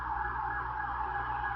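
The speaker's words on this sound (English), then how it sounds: "there are an awful lot of sirens tonight" Emergency vehicle sirens wail at night, a steady tonal whine that holds throughout over a low rumble of traffic, fairly distant and with no voices.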